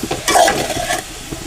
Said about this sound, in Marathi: थोडा थोडा टाकायचा आणि भाजी परत परतून घ्यायची, जेणेकरून आपली फोडणी आहे